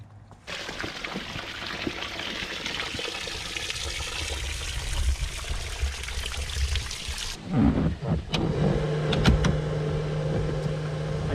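Water runs and splashes steadily from an outlet on a boat being readied for summer, a close, continuous pour that cuts off and gives way to a quieter engine hum with scattered knocks and clatter.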